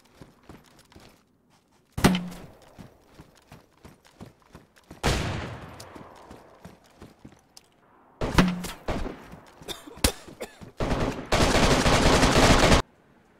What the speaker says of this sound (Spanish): Tiroteo en la casa